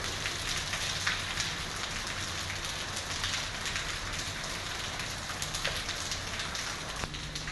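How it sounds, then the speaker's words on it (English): Steady rain falling on a surface, a dense continuous patter with occasional louder drops, close by and unbroken. "Mexico is getting a lot of rain right now."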